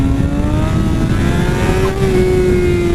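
Motorcycle engine revving steadily as the throttle is rolled on for a power wheelie, a loud, close, continuous rising drone with no talk.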